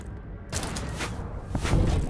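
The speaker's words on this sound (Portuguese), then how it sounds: "É bala pra tudo quanto é lado." Gunfire in the WWI survival horror game Conscript: a dense, continuous crackle of shots and impacts fills the clip, with heavier thuds building toward the end, no voices over it.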